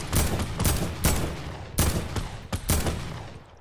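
Rapid bursts of gunfire in Fortnite, about six loud sharp shots in quick uneven succession, each with a booming low tail, close and dominant, without speech.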